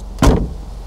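The door of a 1962 Mercedes 190 SL Roadster shuts with a single solid, close thunk, followed by a short fading resonance in a quiet room.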